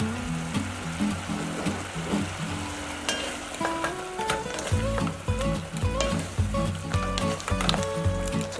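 Food sizzling in a frying pan as it is stirred, a busy crackle with repeated scraping and clinking of the utensil throughout.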